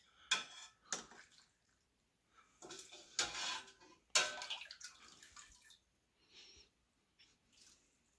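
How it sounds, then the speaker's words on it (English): Broth ladled into rice and barley in a food processor bowl: a few soft wet splashes and pours, then quieter dribbling taps, close and fairly faint, with no talk. "I'm gonna scoop, ladle a little bit of broth in there just to liquefy it"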